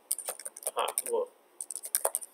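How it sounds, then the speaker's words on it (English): Typing on a computer keyboard at a desk: quick, close, crisp key clicks in two short flurries separated by a brief pause, heard alone. "so just type Angel Raphael artwork."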